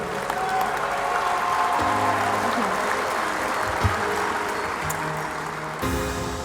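Sustained applause from a large audience at a university sports hall of fame ceremony welcoming an inductee, a dense, even roar of clapping throughout with a faint tonal hum beneath.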